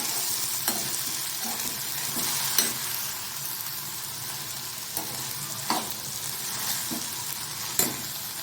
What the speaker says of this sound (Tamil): இப்போது பச்சை பயிர் சேர்த்ததுக்கப்புறம் கிண்டி விடுங்க